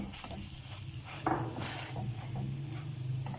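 A spoon stirs a potato mixture in a pan for rainbow bread pakora, soft scraping and patter with a light sizzle underneath, plus one sharper clink of utensil against the pan.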